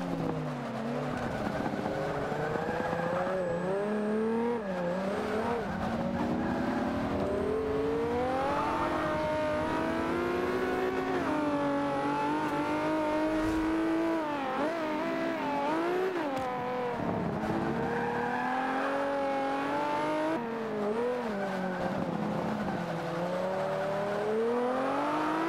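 A front-wheel-drive race car revs hard and spins its front tires, engine pitch sweeping up and down continuously at close range, with squealing tire noise layered over the sustained drone.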